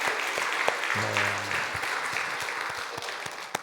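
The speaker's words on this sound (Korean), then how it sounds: "우리 박수하면서 옆에 분 바라보면서 우리 한번 박수 한번 할까요?" A church congregation at a Sunday service claps together, a moderate patter of hands with a few sharper individual claps. A brief spoken word and a sustained musical tone run underneath.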